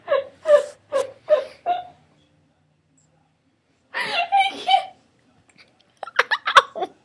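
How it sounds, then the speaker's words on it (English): A person cries in a string of short, sobbing, whimpering bursts, then falls quiet before breaking into more wailing and choked hiccuping sounds, close to the mic. "Are you crying?"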